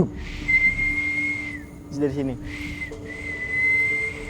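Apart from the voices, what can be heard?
whistling answered by whistling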